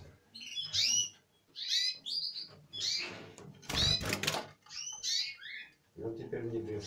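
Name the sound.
green parrotlets (sparrow parrots) chirping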